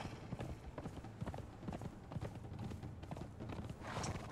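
Steady clip-clop of horse hooves trotting in the video game Conan Exiles at a brisk, even rhythm, close and continuous, with a slight swell near the end.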